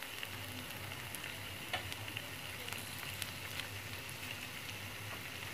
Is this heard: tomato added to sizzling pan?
yes